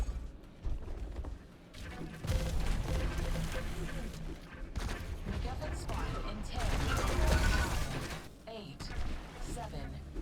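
Plasma weapon fire in the arena shooter Diabotical during a tournament match, dense rapid bursts of game gunfire and effects filling the clip under a caster's commentary.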